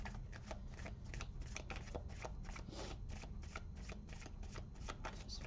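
Tarot cards being shuffled in a quick, steady riffle of crisp paper flicks, close and continuous with no voice over it.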